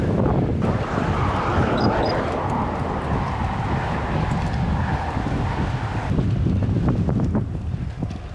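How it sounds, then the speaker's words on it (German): Strong wind roars continuously across the microphone during a hard cycling climb up Mont Ventoux, a loud, steady buffeting rush with no voices. "ich muss auch noch gegen den Wind ankämpfen und das ist schon hart"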